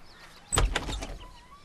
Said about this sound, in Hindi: दरवाजा धीरे से खुला।